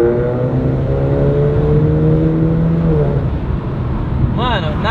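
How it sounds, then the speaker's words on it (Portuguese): A Mercedes A200 with a new exhaust, in fourth gear, holds a steady engine drone, then revs sharply up and down in quick bursts near the end, loud and close. "Pode acelerar, João? Pode. O carro vai dar... tá em quarta marcha. Eu vou acelerar e vai reduzir."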